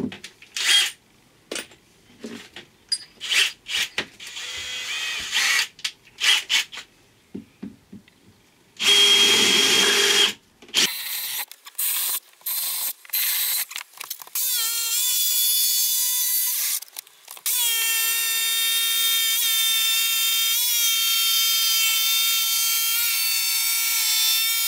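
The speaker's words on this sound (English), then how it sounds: "I'm just going to go ahead and cut all these holes out" A power tool cuts holes in a camper van kitchen unit: short, stop-start bursts of loud whining come first, then the tool runs steadily for a long stretch with only one brief break.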